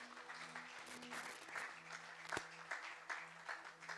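A church congregation applauds during a Sunday service, a faint, sustained patter of many hands clapping in a large room, with one sharper clap standing out partway through.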